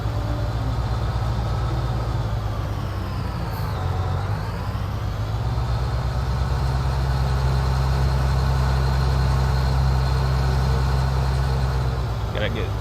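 A tractor engine in Farming Simulator 19 drones steadily and loud with a deep constant hum and a passing pitch dip, someone talking over it.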